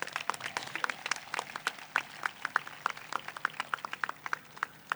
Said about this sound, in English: let's give a big round of applause for our El Segundo Middle School faculty and staff who are also here.